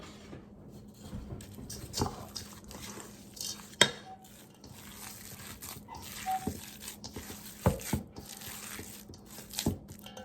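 A spoon works through a thick vegan burger mixture of beans, mushrooms, nuts and basil in a bowl, producing soft squelching mixing strokes and occasional clinks against the dish, close and quiet with no speech.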